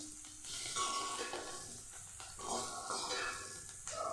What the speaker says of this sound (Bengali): এইভাবে লাল লাল করে ভাজবেন।